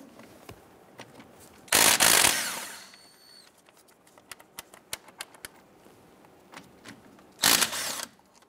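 Mechanic loosening and removing two 17mm brake caliper bolts on a 1999-2004 Jeep Grand Cherokee, with two loud bursts of a power impact tool separated by sharp metallic clicks and clinks of tools and parts, close up.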